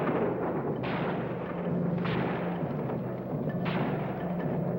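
Battle gunfire in a 1960 war film about a ski troop attack: a few heavy booms and bursts land at intervals over a constant rumbling din, moderately loud, with no speech.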